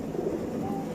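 A pigeon gives a soft, brief coo close by, a low throaty murmur heard alone.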